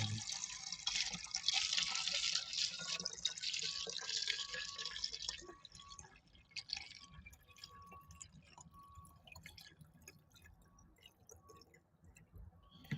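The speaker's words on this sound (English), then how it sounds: "I had to concentrate on pouring" Liquid poured steadily into a container, a bright continuous splashing stream for about six seconds, then tapering into softer, intermittent drips and trickles, close and alone without talk.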